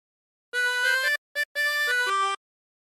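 Harmonica plays phrase 4 of Roll the Old Chariot, a quick series of reedy drawn and blown notes with one short separated note in the middle, finishing on a lower sustained tone, solo and close.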